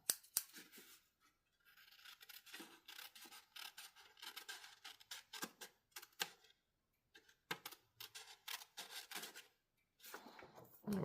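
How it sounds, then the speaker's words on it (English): Scissors snip through paper in a run of short, crisp cuts with brief pauses, close and fairly quiet, while pressure pockets are made for a junk journal. "Let me use my scissors here."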